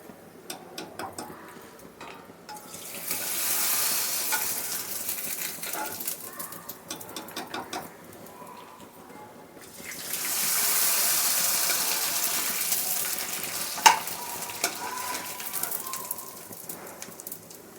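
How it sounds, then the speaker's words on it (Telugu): Sago and semolina vadiyalu crisps frying in hot oil, a steady hiss and crackle that swells loud in two long bursts and fades between them, with scattered small pops and clinks. "అనేగో వడియాలు వేయించుకున్నాం చూసారా"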